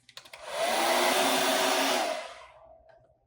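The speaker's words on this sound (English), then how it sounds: "I'm going to use my hairdryer on the cool setting just for 5 or 10 seconds" A hair dryer on its cool setting blows steadily at close range for about two seconds, then winds down and stops.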